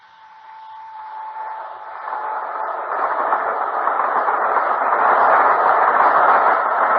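A train approaching and growing louder in a radio drama, a steady rumbling roar with a faint high whine at the start, building to a close, continuous rush.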